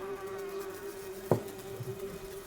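Carrion flies buzz in a film scene, a steady droning whine with a brief louder thump partway through, and no voices.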